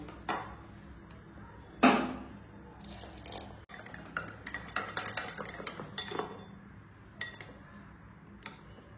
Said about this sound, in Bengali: এখন আমি অল্প অল্প করে জল দিয়ে ব্যাটারটাকে তৈরি করে নেব।